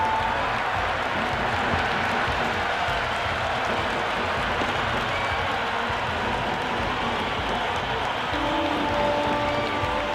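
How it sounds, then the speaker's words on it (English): A stadium crowd in the cricket video game Cricket 26 roars with steady cheering through an IPL match between CSK and PBKS, a dense, continuous wash of noise that holds at the same level throughout. "There's a buzz, a real buzz coming from the stands"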